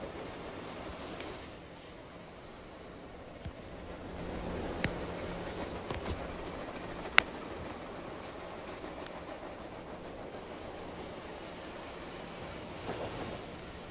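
A train runs along the tracks in the video game Rails Unlimited Classic, with a steady low rumble and occasional light clicks and clanks, all fairly faint and without talk.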